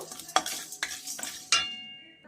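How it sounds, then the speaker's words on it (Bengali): Cumin, garam masala and black pepper dry-roasting in a pan, with four sharp clinks and scrapes of a spoon against metal over a faint crackle, the last scrape ringing out briefly; no talking. "এবার একটু হালকা করে ভেজে এটাকে একটা গুঁড়ো করে নেব"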